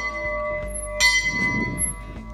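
A small bell rings out on a walking trip through Małopolska, one clear metallic strike with a bright ringing tone that decays over a couple of seconds.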